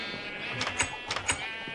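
Sheep bleating in the Minecraft video game, a few short, close bleats rising over a steady, noisy background with no talking.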